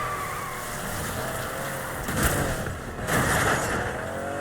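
A car drives in the Need for Speed Unbound racing video game with a steady engine drone. Two louder, harsh bursts break in midway, consistent with crashes.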